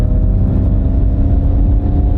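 An electric car accelerates hard from a stop on a drag strip, heard from inside the cabin as a loud, steady, low rumbling roar of motor and road noise with no talking.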